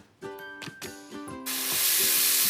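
Food begins to sizzle loudly in a hot pan, a broad frying hiss that swells in partway and holds, following a stretch of tonal background music.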